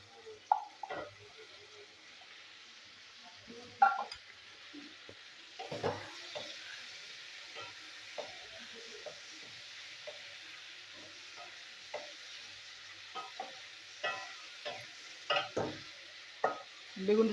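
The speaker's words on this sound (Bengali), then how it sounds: "মশলার মধ্যে দিয়ে দেবো বেগুন, বেগুনটা একটু কষিয়ে নেবো।" Eggplant sautéing in spice paste, a quiet low sizzle broken by intermittent stirring scrapes and soft spoon knocks against the pan.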